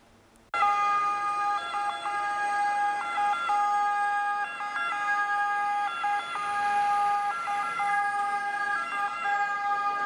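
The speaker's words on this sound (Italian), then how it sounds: "I pompieri arrivano a sirene spiegate" Fire engines race in with sirens wailing during a mock earthquake evacuation at a school in Padova; after a brief quiet start, a loud, near, continuous two-tone siren fills the rest.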